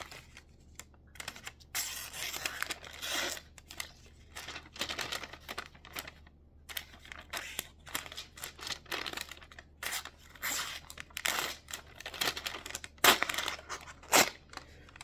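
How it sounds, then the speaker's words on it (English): A Kizlyar Bloke X knife, a large working knife, slices through receipt paper in a run of quick, crisp rasping and tearing strokes. The strokes are close and fairly faint, with short pauses between them and no voice. "cutting edge out of the box is even on both sides and pretty sharp at cutting receipt paper"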